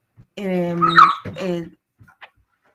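A dog whimpers and whines close by as it climbs onto a person indoors, a few drawn-out tonal whines followed by brief faint sounds.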